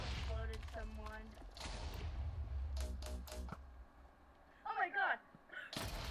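Explosions in the Minecraft minigame server MCC Island go off as several sharp bursts of blasts and crackling, and a player's voice exclaims between them.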